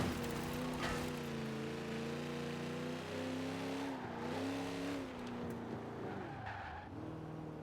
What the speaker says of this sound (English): I'm going to let you guys have a little listen to the car